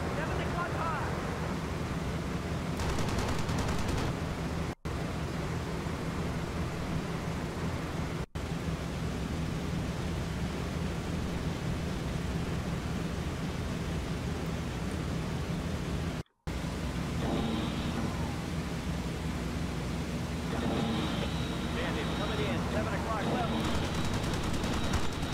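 A B-17 bomber's machine gun fires in a World War II flight game, with bursts of rapid gunfire over a constant roaring engine drone and someone talking through much of it.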